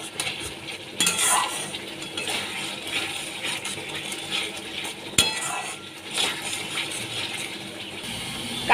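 Potatoes tumble into spice paste frying in hot oil for a Bengali prawn and potato curry, with sharp clattering scrapes of a spoon against the pan over a steady sizzle.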